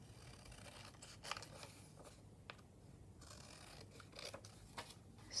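Paper trimmed with scissors for a junk journal pocket, a run of soft, close snips and crisp rustles at an uneven pace.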